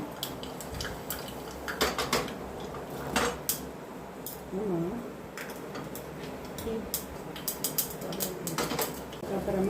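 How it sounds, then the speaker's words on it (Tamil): Mustard seeds splutter in hot oil: sporadic sharp crackles and pops over a steady low background hiss, with occasional louder bursts and faint clinks scattered through. "கடுகு நல்லா வெடிச்சதுக்கு அப்புறமா"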